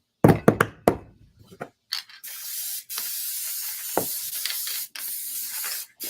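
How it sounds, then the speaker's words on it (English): A spray can sprays into a box during St. Patrick's Day tiered tray crafting, a steady close hiss in several long bursts, broken by short pauses, after some knocking and rattling handling noises at the start. "I know I'm spraying off to the side in a box."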